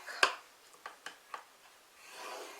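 Paper is scored on a scoring board for a Christmas bon bon craft, a few short, faint scraping strokes separated by pauses, with a sharper scrape at the start and end.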